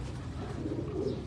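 Pigeons of a kept fancy breed coo softly in a loft, a low continuous murmuring bed of throaty calls with no talk over it.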